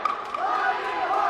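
A crowd roars at a live fight event, a dense sustained swell of voices that builds after a brief dip and carries loud and steady to the end.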